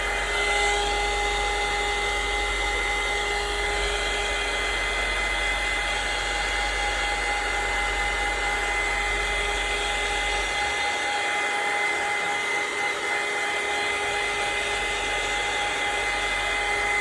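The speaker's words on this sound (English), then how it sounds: "let's get my dryer" A hair dryer blows steadily as it dries modelling paste on a mixed media art piece, a close, continuous whirring hum lasting the whole stretch with a slight shift in tone partway through.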